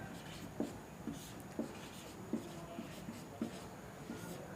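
Chalk or pen writing out the left-hand side of a trigonometry equation for a class 10 maths lesson, heard as soft, evenly spaced scratchy strokes, quiet and close, with no talking.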